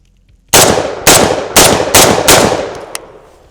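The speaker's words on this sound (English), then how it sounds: "Now I'm gonna try and shoot like a man." Derya DY12Y shotgun firing five loud, sharp blasts in quick succession at roughly half-second intervals, each ringing out before the next, followed by a faint small click.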